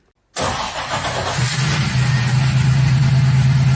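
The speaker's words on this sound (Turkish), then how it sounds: "arabayı çalıştırdığında egzozdan çıkan ses" A 1967 Pontiac GTO muscle car engine fires up abruptly and settles into a loud, deep, throbbing exhaust rumble, close and continuous, with no voices.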